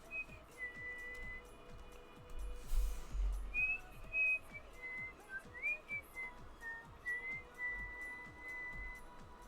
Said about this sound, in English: Sorry if the whistling is annoying.